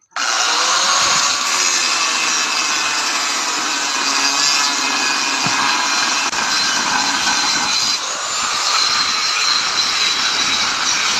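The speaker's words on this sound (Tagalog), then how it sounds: "Gamit tayo ng grinder." Angle grinder cutting into the metal casing of a refrigerator compressor motor, a loud continuous high-pitched grinding screech with steady intensity and a brief dip near the end, no talking.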